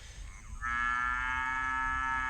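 A cow moos near a pond, one long, sustained low call rising out of quiet outdoor ambience and holding steady for nearly two seconds at moderate distance.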